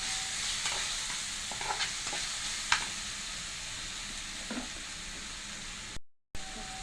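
Onion and tomato with salt sautéing in a pan give a steady, soft sizzle, with occasional light scrapes and stirring clicks over the continuous frying hiss.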